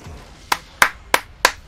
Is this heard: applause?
yes